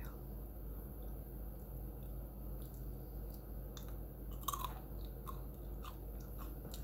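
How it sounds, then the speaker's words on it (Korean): Someone is munching honey-coated Thai macadamia nuts close up, with soft crunches and moist chewing clicks over a steady low background hum. No one speaks. "되게 맛있게 너트 허니를 먹어보겠습니다"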